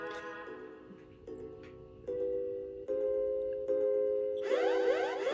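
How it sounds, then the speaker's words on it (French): A stepped electronic alarm tone from the Super NES game Chrono Trigger, rising in pitch through repeated sustained beeps and ending in a brighter warbling burst, with no one talking. "Une alarme a retenti."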